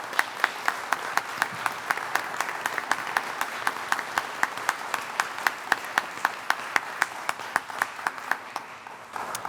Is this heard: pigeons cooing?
no